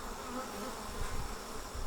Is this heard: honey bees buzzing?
yes